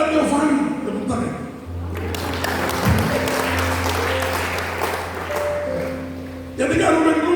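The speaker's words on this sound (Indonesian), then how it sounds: "Tepuk tangan." Congregation applause breaks out during a church sermon, a sustained wash of clapping with a steady low hum beneath it, framed by a preacher's voice at the start and end.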